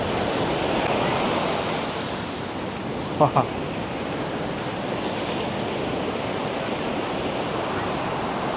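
Sea waves wash steadily onto a beach in a continuous broadband roar with some wind on the microphone, close and loud throughout, broken only by a couple of brief knocks midway.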